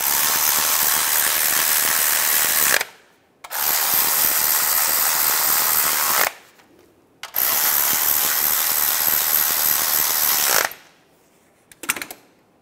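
A ratchet tightens the starter bolts on a 2005-2010 Chevy Cobalt, with three long bursts of rapid, loud clicking close up, separated by short pauses and a brief final click.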